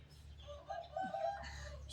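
A rooster crows faintly in the distance on a Thai home property, a short rising call heard over a low steady background hum.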